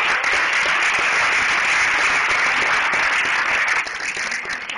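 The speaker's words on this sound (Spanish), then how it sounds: "eso se merece un aplauso, ¿no?" A large crowd at the second Guadalajara summit applauds in a thick, continuous wash of clapping, loud and even, dropping a little near the end.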